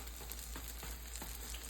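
Saltfish fritters sizzle in a nonstick frying pan with a steady, hissing crackle and occasional soft pops, faint and continuous with no voices.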